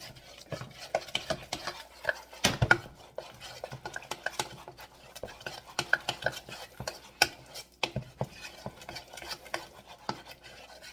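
Cayenne pepper mixed into English-style scrambled eggs: close, uneven clinks and scrapes of a utensil against a pan or bowl, repeated briskly throughout with short pauses.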